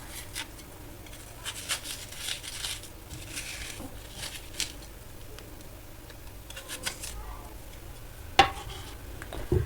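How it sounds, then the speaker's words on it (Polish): A knife cuts sour apples in half and carves out the seed cores, giving soft scraping and a few quiet clicks and taps against a board, close and sparse. "Przekrawam na pół, usuwam gniazda nasienne."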